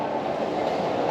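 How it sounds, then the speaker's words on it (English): Steady, dense rumble and rushing noise inside a Frecciarossa high-speed train travelling from Rome to Bologna, continuous and moderately loud with faint rail clatter. "successful train ride from Rome to Bologna by Frecciarossa."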